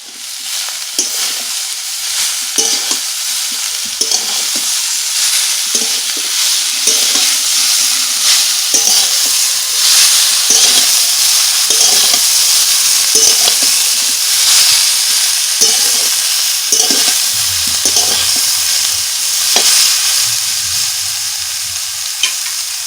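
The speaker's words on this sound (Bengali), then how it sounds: "এবারে আমি ভেজে রাখা চিকেনগুলো দিয়ে দিচ্ছি" Fried chicken pieces stir-fried with broccoli in a pan sizzle steadily and loudly, with repeated scraping stirs of a spatula every second or so throughout.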